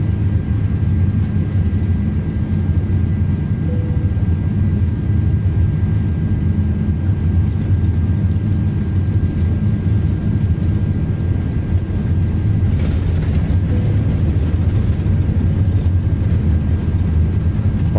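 Airbus A330-300 engines roar at takeoff thrust in a flight simulator, a steady, loud, low-pitched drone that holds unchanged throughout.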